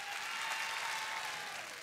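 Studio audience applause on a Saturday variety show, a steady wash of clapping hands sustained at even loudness throughout, with no voices standing out.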